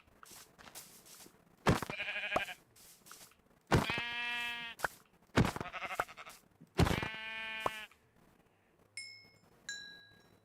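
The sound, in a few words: sheep bleating in Minecraft Bedrock video game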